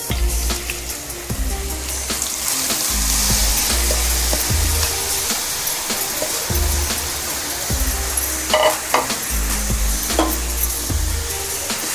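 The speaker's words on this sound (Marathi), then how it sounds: "चार 5 मिनिटं चांगलं तुपामध्ये परतून घ्यायचं आहे।" Grated carrots stir-fry in hot ghee in a kadhai for gajar halwa, with a loud, continuous close-up sizzle and regular low thuds and scrapes from the stirring spoon.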